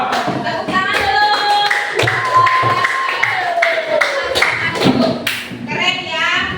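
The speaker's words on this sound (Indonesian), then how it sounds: "Tepuk tangan dulu." Students in a classroom clap their hands in loud, uneven bursts close by, mixed with thumps and shuffling and children's voices chattering and calling out over the clapping.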